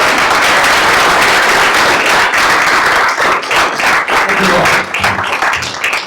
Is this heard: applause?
yes